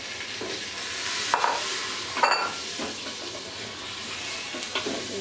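Meat frying in a clay pot gives a steady sizzle, with a few brief scraping stirs against the pot and no talking.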